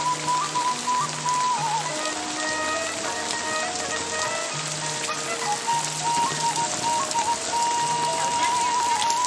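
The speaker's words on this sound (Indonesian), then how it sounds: "lebat sekali hujannya" Heavy rain pours steadily on surfaces in a rural jungle village, a dense continuous patter with faint whistling tones threaded through it.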